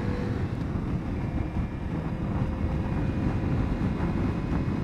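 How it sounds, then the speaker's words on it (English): Steady, loud wind buffeting a small wireless clip-on mic during a motorcycle ride, a constant low rumble and roar filling the whole stretch with no voices. "it's a little windier than I thought"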